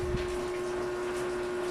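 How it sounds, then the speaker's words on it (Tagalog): Water poured into a pot of soup with chicken, carrot and hotdog, a continuous close gushing splash with a steady hum beneath, brief and alone. "Tapos lagyan ng tubig."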